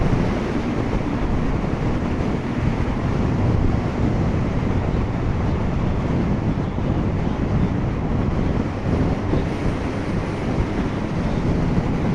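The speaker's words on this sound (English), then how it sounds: "That's a bit of a gust of wind there." Steady, heavy wind buffeting the microphone on an outdoor bike ride near Penticton, a dense low roar that fills the whole stretch without letting up, and no voices.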